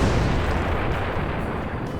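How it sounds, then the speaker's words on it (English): Massive point-blank explosion effect, a loud dense rumbling blast that fills the whole clip with a sustained roar and slowly fading tail, no voices. "A wild grin appeared on Katsuki's face as he detonated a massive point-blank explosion on Deku,"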